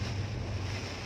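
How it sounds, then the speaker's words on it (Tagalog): Strong typhoon wind roars continuously against the microphone in Daraga, Albay, Philippines, a dense buffeting rush with deep low-end rumble. "yung malakas na ang hangin"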